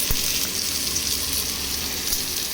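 Cumin, chili and turmeric hit hot oil and set off a loud, dense, continuous sizzle that stays steady throughout, close up and with no speech.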